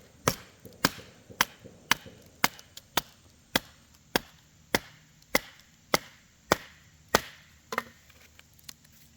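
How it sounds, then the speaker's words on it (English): Rhythmic, sharp knocks ring out as a knife is batoned down through a piece of wood to split it. About fifteen evenly spaced strikes land close by, each one clear and cracking. "So we're going to go ahead and baton this. See if we can't split it right down the middle."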